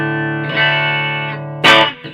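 Electric guitar pushed through a pedal hard enough to overload the amp, giving a loud, distorted sustained note that swells and then ends in a brief harsh burst.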